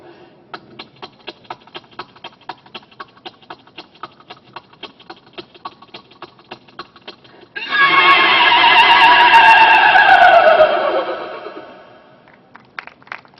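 A voice imitates galloping horse hooves with a steady run of quick clicks, then breaks into a loud, long, wavering neigh that fades away.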